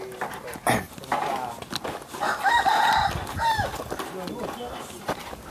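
A rooster crows once, loud and close, over a busy background of voices and farmyard noise.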